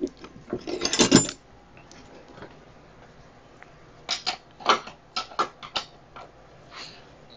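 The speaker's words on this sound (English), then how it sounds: "This is typically a 18 or a 19 millimeter wrench." Wrench working on the wheel nut of an e-bike with an 18 or 19 millimeter wrench, a burst of metallic clicking and scraping at the start, then a series of sharp ratcheting clicks and clanks later, close and moderately loud.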